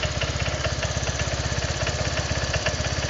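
A Honda Vario 125 scooter engine runs close and loud with a fast, even putter during a throttle adjustment, its steady idle-like pulse continuing without a break throughout.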